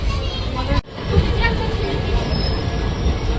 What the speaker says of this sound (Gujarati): જો અત્યારે ઓલી ટ્રેન હતી તમે જોઈ રીતે કે પોરબંદર તરફ જઈ રહી છે